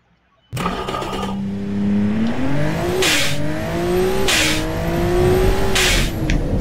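An 800 hp boxer-six supercar in a video game accelerates on a test track. Its engine bursts in and climbs through rising revs, with brief gear-change dips and loud, close exhaust roar throughout.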